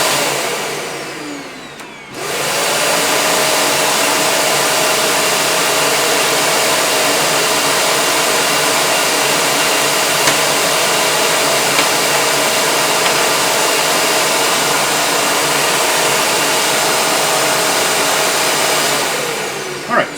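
A Shark NV501 Rotator upright vacuum cleaner switches on after a brief rustle, its motor rising into a loud, steady high-pitched whir that runs unbroken and close, then stops at the end.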